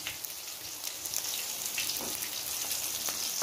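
Soybean veg kababs shallow-frying in oil on a tawa, giving a dense, bright, crackling sizzle with scattered pops that holds steady and close, no speech.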